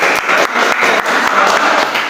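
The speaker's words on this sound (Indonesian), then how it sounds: "tepuk tangan untuk kita semua" A room of students applauds during a civics class session, steady dense clapping lasting a couple of seconds, fairly loud and close, with no talk over it.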